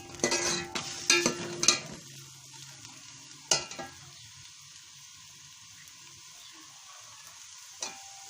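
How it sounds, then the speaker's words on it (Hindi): Finely chopped onions go into hot cooking oil, with a few sharp stirring scrapes and splashes early on, then a quiet, steady sizzle and one more clatter near the end. "कुकिंग ऑयल में आप प्याज डाल लेंगे।"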